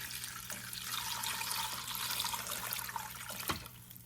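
Water pours steadily from a tap onto roasted bones in a pot for carnivore bone broth, a continuous bright splashing rush that runs the whole time, close and fairly loud, ending with a brief clunk.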